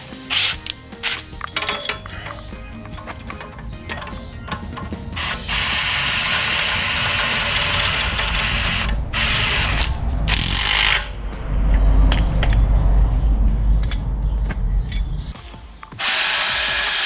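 Spring compressors squeezing the front coil spring of a VW Passat B8 during a strut replacement, heard as steady mechanical grinding and ratcheting from a power tool driving the compressor threads, loud and continuous with brief pauses, no talking.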